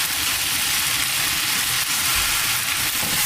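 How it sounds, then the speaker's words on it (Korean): Spinach stir-frying in a frying pan for spinach pesto tteokbokki, a loud, steady sizzle with hissing steam that holds evenly throughout with no voices. "시금치의 숨이 다 죽을 때까지 잘 볶아주세요."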